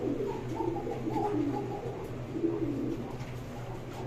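Domestic pigeons in a keeper's loft coo steadily and continuously, their soft, overlapping calls repeating at mid volume over a low background hum, with no talking.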